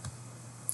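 A single mouse click on a computer sounds once, short and faint, near the start against a quiet background.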